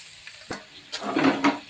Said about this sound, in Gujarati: ટમેટું અને ડુંગળી હવે આપણે એને તેલમાં ફેરવી લઈશું